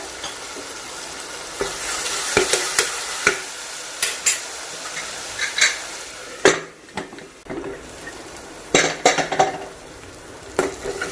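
Tomatoes cook in a pan for egg biryani, with a steady sizzle under repeated stirring and sharp scrapes and clinks of a spoon against the pan, close and fairly loud, with no talking.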